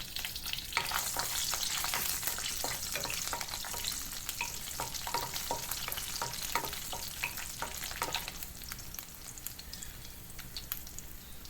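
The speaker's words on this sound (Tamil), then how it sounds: "ஜீரகம் போட்டு வரமிளகாவையும் போட்டு இதோட பூண்டு பல்லையும் போட்டுக்கலாம். இப்போ இதை லேசாக ஃப்ரை பண்ணிப்போம்." Cumin, dried red chillies and garlic cloves frying in hot oil in a pan for curry leaf chutney, making a dense, steady sizzle with quick stirring scrapes, easing slightly toward the end.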